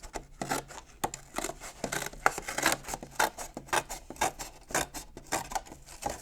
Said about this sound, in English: So I'm going to cut along the edge.